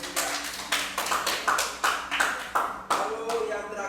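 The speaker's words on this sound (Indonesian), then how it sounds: "Tepuk tangan untuk kelompok 3" Scattered applause from a small classroom group of students for a team that has just presented, with a handful of sharp, uneven claps repeating in bursts and a faint voice underneath.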